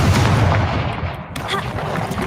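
A Confringo fire spell blast from Hogwarts Legacy, a loud, dense explosive burst with a short rumbling tail, layered over game ambience.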